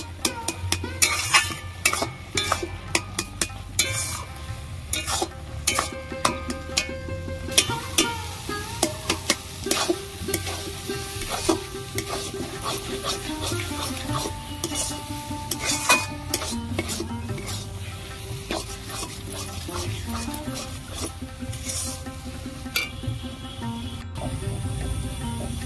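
Taro leaves (kochu shak) cook in a pan as a utensil stirs them, with repeated scraping and clinking against the metal over a soft sizzle, close and busy throughout.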